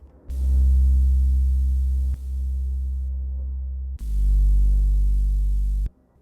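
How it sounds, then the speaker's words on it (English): A deep analog bass from a Korg MS-20 Mini, layered with sub bass, throbs in two long sustained notes separated by a short dip. It is loud, heavy and slightly fuzzy, with nothing else in the mix. "The bass sound right here is something I recorded on a analog MS-20 Mini"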